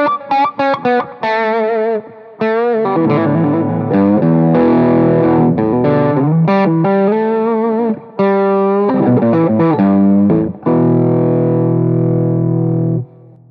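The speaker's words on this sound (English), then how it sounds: "Let's hear what the amp sounds like with the ultimate attenuator bypassed." An electric guitar on the bridge pickup runs through a Plexi amp with the master at half and the attenuator bypassed, giving loud, close, distorted chords and riffs in bursts with short pauses and ringing sustained notes.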